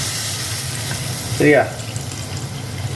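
Tamarind water poured into a pan of sautéed capsicum for sambar gives a short splash and sizzle midway, over a low kitchen hum, with a brief spoken word nearby.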